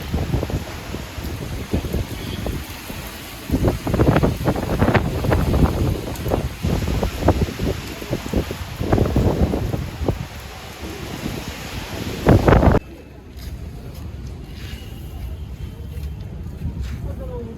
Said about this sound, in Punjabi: ਹਵਾ ਵੀ ਬਹੁਤ ਚੱਲ ਰਹੀ ਆ